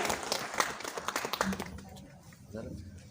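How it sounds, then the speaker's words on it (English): Audience applause at an Ambedkar Jayanti gathering as Dr. Babasaheb Ambedkar's portrait is garlanded, fairly quiet clapping in the first half that fades away, with voices nearby. "May we please have a big round of applause as we garland Dr. Babasaheb Ambedkar."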